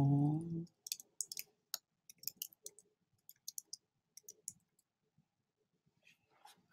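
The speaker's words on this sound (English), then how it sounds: "So the first thing I'm going to do is type out my words." Words being typed on a computer keyboard, an irregular run of crisp close key clicks in quick bursts and pauses, following a short voice at the start.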